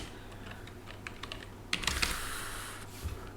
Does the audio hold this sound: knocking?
no